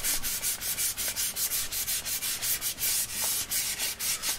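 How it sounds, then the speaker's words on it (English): A left-handed Telecaster-style electric guitar body being hand sanded before staining, steady rhythmic back-and-forth strokes, close and continuous with no talking. "This is a shit part, sanding and sanding."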